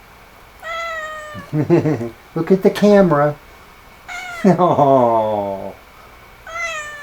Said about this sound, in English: was kind of meowing out there, wanting a little attention